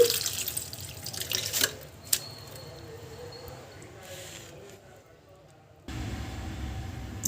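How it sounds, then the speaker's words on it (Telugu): Tap water running over drumstick (moringa) leaves as they are rinsed in a kitchen sink. Splashing comes in a burst, drops to a faint trickle, then returns strongly near the end, with a voice speaking at times. "ఇప్పుడు ఒక రెండు మూడు సార్లు ఇలా కడిగి పెట్టుకోవాలండి"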